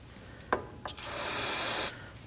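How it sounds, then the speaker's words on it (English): Two short taps, then a steady aerosol spray of degreaser hisses for about a second before cutting off sharply, cleaning around a radiator on a 2011-2016 Kia Optima 2.4L. "Using some degreaser, go ahead and spray off the area."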